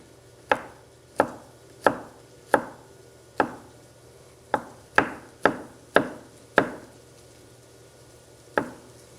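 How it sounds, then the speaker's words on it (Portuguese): A knife chops garlic finely on a cutting board, giving about a dozen crisp, close knocks at an uneven pace, with brief pauses between bursts. "Vou deixar o alho bem picadinho."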